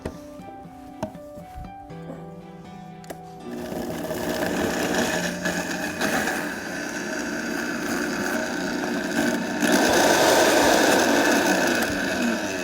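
A blender purees a chicken and taro flauta marinade with oil and jalapeno, running as a steady loud whir that swells and roughens partway through, with no talking.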